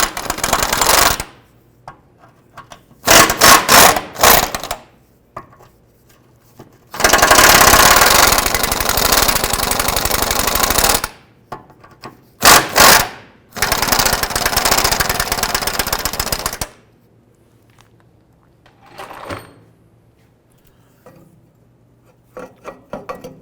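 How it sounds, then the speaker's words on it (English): Power tool bursts work on bolts under a 2005-10 Jeep Grand Cherokee during a differential bushing job, loud rattling runs of a few seconds each, separated by silences and a few short clicks. "I'm going to go ahead and loosen the other bolts on the other side"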